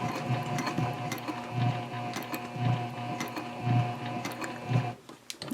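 Home sewing machine stitching across the strap of a tote handbag near a metal D-ring at a 3.5 stitch length, a steady close mechanical whirr with rhythmic needle thumps roughly once a second, stopping briefly near the end.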